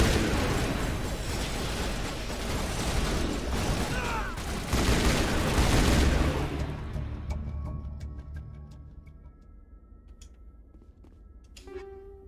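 A loud, dense firefight in Mass Effect, with continuous gunfire and blasts filling the first six seconds before fading to sparse scattered shots and clicks.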